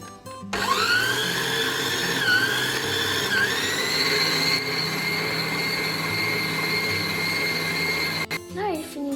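An electric mixer beats cupcake batter with coconut milk in a bowl, a steady close whine running for several seconds with brief pitch dips as it works through the batter, then stopping.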